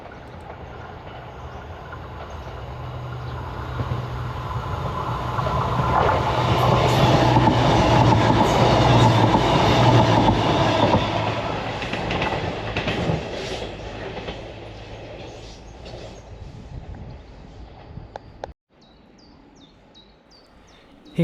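A CrossCountry Voyager Class 221 diesel multiple unit runs non-stop through Par station in Cornwall on a Penzance to Edinburgh service, its roar and rail clatter building to a loud peak mid-pass, then fading before an abrupt cut.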